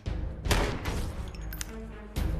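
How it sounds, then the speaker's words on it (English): Several sharp, booming gunshots at irregular intervals, loud and close, with a low rumble between them. "That was definitely gunfire."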